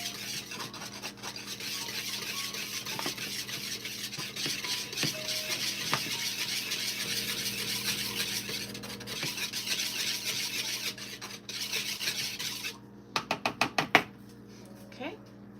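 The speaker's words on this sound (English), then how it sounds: "mix our dry together" Dry ingredients for protein sprinkle mantecaditos are stirred together in a bowl, a continuous gritty rasping and rubbing, close and moderately loud, ending with a quick run of sharp taps against the bowl's rim; a voice murmurs faintly underneath.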